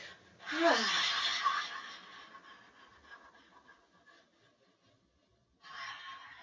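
A long, audible exhale during yoga with arms raised overhead, a breathy voiced sigh falling in pitch that fades out, followed by quiet and the start of another breath.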